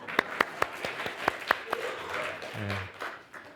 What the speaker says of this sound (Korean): 크게 박수 한번 쳐줄까요?